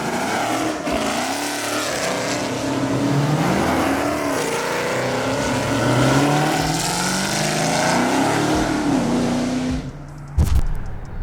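A 1200hp Speedkore-built Dodge Demon with an all-carbon-fiber body drives hard, its engine roaring loud and close with rising and falling revs through gear changes, then a sudden thump near the end.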